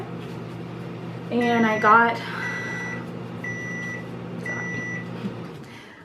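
A microwave oven runs while chapstick ingredients such as shea butter melt, giving a steady low electrical hum. A person talks over it, and a few short tonal beeps sound near the end.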